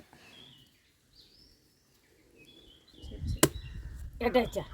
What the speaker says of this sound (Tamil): ஒரே வெட்டு தான் சித்தி பயங்கரமாக வெட்டிகிட்டு இருக்காங்க